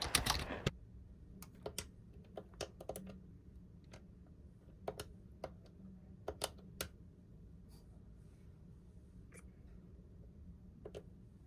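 Intermittent taps on a computer keyboard at a hospital social worker's desk, quiet and close, coming in scattered bursts of clicks with pauses in a hushed room.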